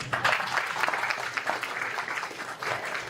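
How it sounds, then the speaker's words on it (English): At the close of an award ceremony during a school board work session, a room of people gives a sustained round of applause, steady and dense clapping with little else over it. "give them a big applause"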